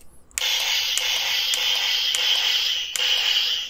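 Miniforce Animaltron toy sword letting out its electronic sword effect after a button press, a bright, buzzy tone that holds steady with small periodic pulses, played close and alone after a brief click.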